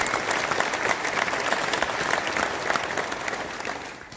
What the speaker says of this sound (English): Let's give Brad a big round of applause.